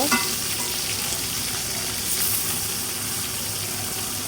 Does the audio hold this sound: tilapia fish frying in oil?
yes